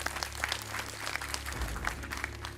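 Applause from a quiz show audience for a contestant, many people clapping together in an even, sustained burst with scattered crisp claps on top.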